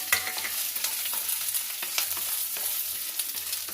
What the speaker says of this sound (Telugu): నూనె వేసుకొని ఎండుమిరపకాయలు వేసుకుందాము కొంచెము కరేపాకు వేసుకొని దానిపైన ఎండుమిరపకాయలు వేసుకోవాలి